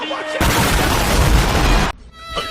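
Video game bomb explosion in a Scratch conveyor-belt cake game: a single loud, sustained blast lasting about a second and a half, with a short quieter tail of game sounds after.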